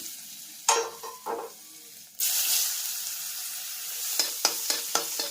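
Bean sprouts frying in a small amount of oil in a pan, with bursts of sizzling, stirring scrapes and a few clatters, close and moderately loud.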